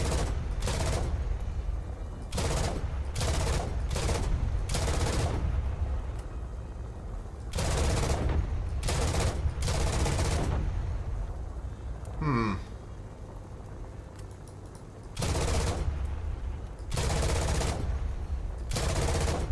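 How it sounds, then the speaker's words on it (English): A tank's machine gun rattles in War Thunder in long, loud bursts separated by short pauses, with heavy engine rumble underneath and a brief whine in the middle; no talking is heard. "this is a machine gun really"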